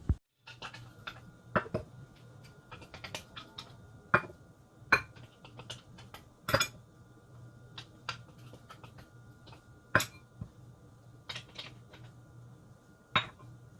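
Chopped vegetables for guacamole tipped into a bowl and stirred, giving a series of sharp clicks and scrapes of utensil against the bowl over a low steady hum, with no talking.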